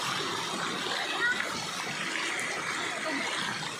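Water splashing and flowing steadily where people wash laundry outdoors, a dense, close wash of sound with people talking underneath.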